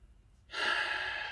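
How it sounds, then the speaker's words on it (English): A single deep breath drawn in after a brief hush, a soft breathy rush that swells at about half a second and holds steady and close to the end. "Take a deep breath."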